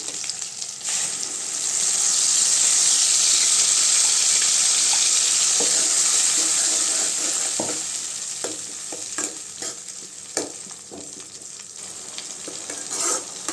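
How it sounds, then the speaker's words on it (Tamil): Ground tomato purée hitting sautéed onions in a pan for pirandai kulambu, a loud hissing sizzle that swells, then settles into steady frying with clatters of stirring. "இப்போ வெங்காயம்லாம் நல்லா வதங்கிருச்சுங்க ரெண்டு தக்காளி அரைச்சி வச்சுருக்கேன் அதை இது கூட சேர்த்துக்கலாம்"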